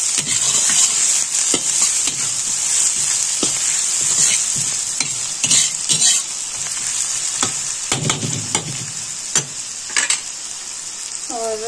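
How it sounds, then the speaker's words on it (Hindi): Chillies and onions fry in an iron wok (kadhai) with cumin and fenugreek in ghee, giving a steady loud sizzle with repeated clatters of stirring throughout. "और साथ में हम डाल देंगे मिर्च और प्याज को ब्राउन होने देंगे।"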